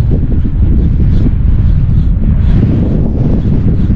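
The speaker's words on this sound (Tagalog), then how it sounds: "Lakas ng hangin." Strong wind roars and buffets the microphone in a loud, continuous rumble, with no other sounds breaking through.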